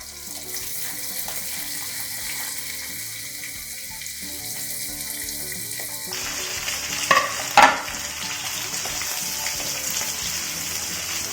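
Chopped onion fries in oil in a pan over a medium flame, a steady crackling hiss that runs continuously, brightens midway and carries a couple of brief louder clatters near the end.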